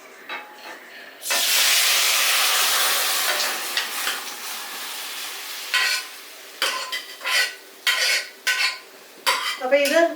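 Boiled potatoes are tipped into a hot pan with a loud rushing sizzle, then stirred with a run of uneven scraping and clinking strokes against the pan.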